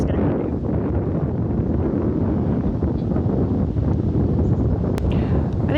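Cold wind blowing on a blustery day, a loud, continuous low roar buffeting the microphone with brief gusty swells and a faint rustle, no voices present.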